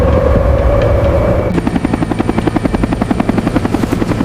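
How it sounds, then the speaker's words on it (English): Helicopter flying over a snowy mountainside near a stranded cable car, first a muffled drone, then a loud, fast, regular rotor thump with turbine whine as it comes closer. "It is a helicopter."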